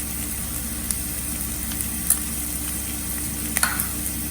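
Capsicum with coriander powder and red chilli powder is stirred in a frying pan for paneer masala. A steady close sizzle runs throughout, broken by a few light taps of the spatula.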